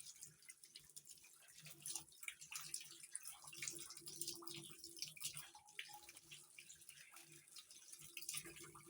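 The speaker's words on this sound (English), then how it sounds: "Now it's time to rinse our garlic." Tap water runs and splashes while garlic is rinsed under the faucet for a chicken dinner, a steady faint flow with irregular splatters close by.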